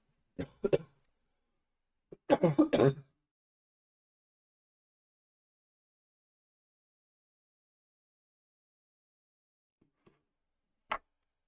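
Two short bursts of coughing, a quick one and then a longer fit, followed by long silence and a faint click near the end.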